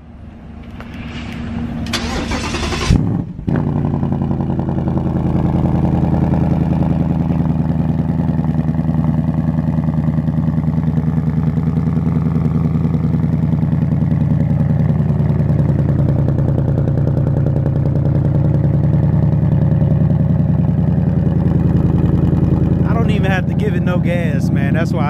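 A 2019 Ford Mustang GT Premium V8 cold-starts with a sharp crank and burst, then settles into a loud, steady, deep rumbling idle that runs close and continuous for over twenty seconds.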